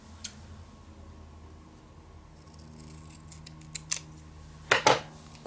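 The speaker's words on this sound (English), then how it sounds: "I'm gonna have to cut this." Scissors snip through paper for a planner craft kit, a few quiet scattered cuts ending in a louder cluster of close crisp snips, with no talking.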